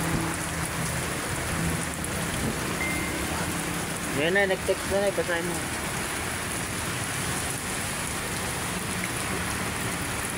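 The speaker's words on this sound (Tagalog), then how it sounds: "Maulan today, ah. Lakas ng ulan, ang lakas, oh." Heavy rain pours steadily at Manila Bay throughout, a dense constant hiss, while a voice speaks briefly in the middle.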